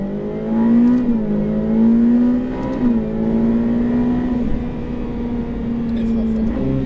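A Ferrari F8 Tributo accelerates on a race circuit, its engine a loud, steady in-cabin drone that rises through the gears with brief dips at shifts, while a person speaks over it.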